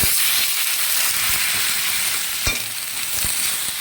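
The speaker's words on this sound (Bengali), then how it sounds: "পুঁই পাতাগুলো দিয়ে আবার একটু নেড়ে নেবো।" Malabar spinach leaves and fried vegetables sizzle in a pan while being stirred, a steady close hiss broken by a few soft scraping knocks, with no talk.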